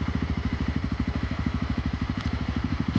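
A motorcycle engine idles nearby with a steady, rapid thumping putter, even and unbroken throughout.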